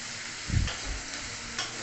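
Sliced onion dropped into hot oil in a wok-style pan, a soft thump and then a quiet, low sizzle that carries on faintly in the background.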